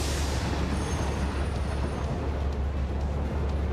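A sulfur-hauling freight train rolls past in Satisfactory, a continuous heavy rumble and rail hiss holding steady and loud throughout without a break.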